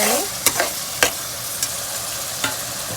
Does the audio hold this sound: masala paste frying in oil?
yes